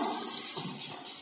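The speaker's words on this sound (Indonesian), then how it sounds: "Kita siram hingga bersih" Running water rinses a clogged bathroom sink drain filter clogged with hair, a steady close rush of flowing water with no voices.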